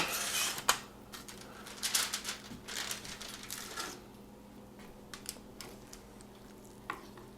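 Cooked St. Louis style pork ribs being moved onto a cutting board, with scraping, clinking utensil and tray sounds in irregular bursts early on, then quieter scattered taps and a faint hiss.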